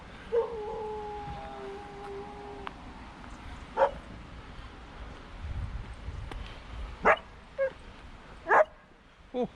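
A dog howls and whimpers near a marina, with a drawn-out wavering cry at the start followed by several short yelping bursts over low background rumble.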